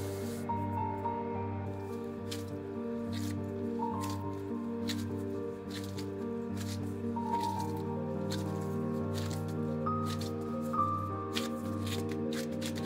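Noodle dough being kneaded by hand on a surface dusted with tapioca starch, giving soft, repeated squishing and slapping sounds over a steady humming background, with no talking.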